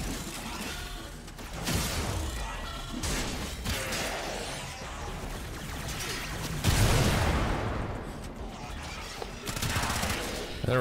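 Rapid gunfire bursts from a Warframe firefight, loud and dense throughout, with crashes and whooshes mixed in and a sharp intensified volley partway through.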